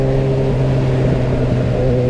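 A Yamaha XJ6 motorcycle engine hums steadily as the throttle rolls on in sixth gear, a smooth, continuous drone heard up close and building only slightly.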